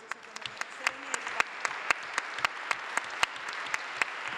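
A small audience applauds at the closing session of an Italian event, sparse and clearly separated claps at a steady pace in a quiet room, moderately close and without voices.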